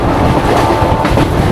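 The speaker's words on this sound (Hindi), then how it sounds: "पूरी जयनगर एक्सप्रेस" The Puri Jaynagar Express passenger train runs along the rails near Jajpur, a loud, close, continuous rumble of wheels and wagons with a faint rhythmic clatter throughout.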